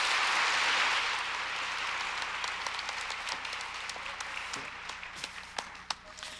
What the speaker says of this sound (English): Dr. Hung, you certainly deserve another round of applause